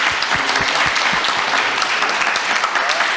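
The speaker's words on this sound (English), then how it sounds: "So I hope you'll join me in giving them a round of applause" An audience at a formal panel event marking the Taiwan Relations Act's 45th anniversary applauds, a dense, steady wash of many hands clapping that holds at an even level through the whole stretch.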